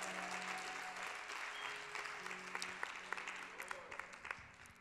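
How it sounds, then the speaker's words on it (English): A church congregation claps their hands during a Christmas-season sermon, a dense, sustained round of applause with a few sharper individual claps standing out and a low hum beneath. "Give him a hand clap."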